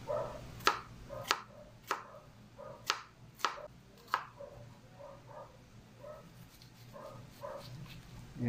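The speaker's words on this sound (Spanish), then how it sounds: "Vamos a cortar la cebolla primero en brunoise, es decir, en pequeños cubitos." Knife chopping onion into fine brunoise cubes on a board: a run of sharp, close, evenly spaced chops that grow softer and quicker toward the end, with no talk.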